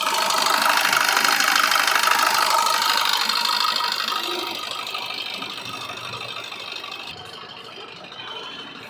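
A 2017 Maruti Baleno's diesel engine running, a steady, close, clattery idle that is louder at first and then settles slightly quieter, with no voices.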